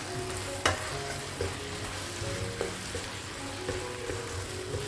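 Egg Manchurian frying and being stirred in sauce in a pan, with a steady sizzle and occasional spoon scrapes and clinks, fairly quiet and with no talk.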